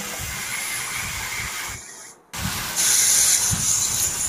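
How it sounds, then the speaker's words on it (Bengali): Cut sweet pumpkin drops into hot oil already spiced with panch phoron, whole cumin, dried red chili and bay leaf for a bori pumpkin curry. A steady hiss breaks off briefly, then returns as a louder, fuller sizzle. "এবার দিয়ে দিচ্ছি কেটে রাখা মিষ্টি কুমড়া।"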